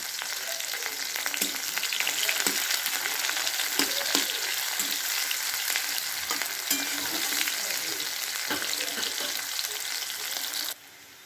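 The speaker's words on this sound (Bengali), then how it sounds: "প্রথমে পেঁয়াজগুলো একটু ভাজা ভাজা করে নেব।" Onions sizzle steadily in a pan while a utensil stirs and scrapes them, adding repeated knocks over the constant close hiss before it cuts off abruptly.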